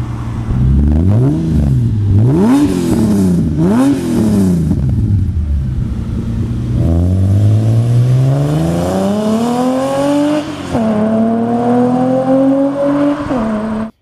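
Mitsubishi Eclipse third-generation 3.0-liter V6 fitted with RPW headers, revving in loud, close bursts: several quick blips rising and falling, then longer pulls climbing steadily in pitch, with no talking.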